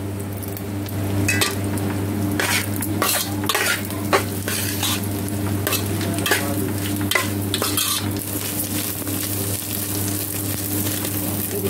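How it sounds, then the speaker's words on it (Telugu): A pan of Mrugashira karthi special food sizzles as it fries, with a utensil scraping and clinking against the pan while it is stirred, over a steady low hum. "ఇది కలుపుతున్నాను"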